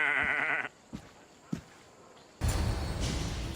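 Goats bleat in goat pens within Assassin's Creed Odyssey, a loud wavering bleat opening the scene, then brief soft thumps before a burst of broad rustling farmyard noise.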